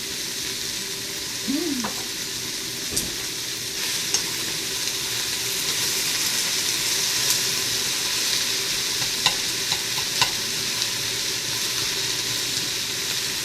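Pork and cabbage stir-fry in a pan, seasoned with salt, ginger and pepper. They give a steady loud sizzle with occasional stirring clicks and scrapes throughout, and no talking.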